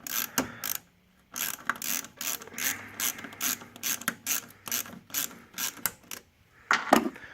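Rapid ratcheting clicks from an 8mm socket loosening an intercooler hose clamp on a 2008–2014 Subaru WRX, coming in close repeated bursts with a brief pause near the start and another near the end.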